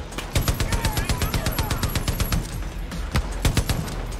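Rapid bursts of automatic gunfire in the video game Far Cry New Dawn crack out close and loud in quick rhythmic volleys, followed by a short pause and a few more scattered shots.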